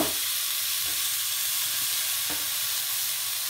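Garlic fries with tiger prawns in a hot pan, making a loud, steady, close sizzle that hisses without a break, with a couple of faint knocks under it.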